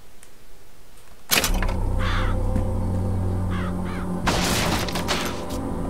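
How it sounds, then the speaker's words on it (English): Murderous crows summoned with a vigor in the video game BioShock Infinite burst in with loud, harsh caws over a rumbling in-game background. A second wave of cawing and fluttering follows a few seconds later. "Press to summon murderous crows."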